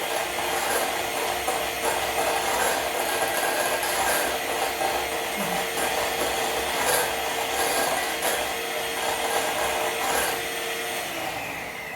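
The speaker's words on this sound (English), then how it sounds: "Scrape the sides with the whisk only" A whisk beats butter for eggless banana bread and scrapes the sides of the bowl. The rubbing and scraping is close, continuous and fairly loud, with no voices.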